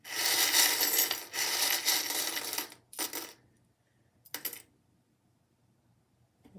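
Small metal tarot charms are handled and shaken together, clinking like dropped coins in a long jangling rush, followed by two shorter bursts of clatter separated by near silence.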